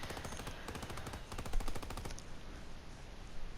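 A flak gun fires in the WW2 Zombies game on the Darkest Shore map, letting off a rapid rhythmic burst of loud pounding shots for about two seconds before the sound drops to a softer, echoing background rumble.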